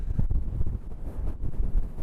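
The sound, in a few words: strong stormy wind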